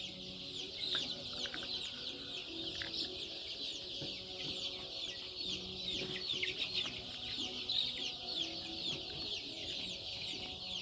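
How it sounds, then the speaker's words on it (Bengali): A flock of desi chickens clucks steadily while eating neem leaves, with dense high peeping and chirping running continuously throughout. "কি সুন্দর আমার মুরগিগুলো নিম পাতা খাচ্ছে"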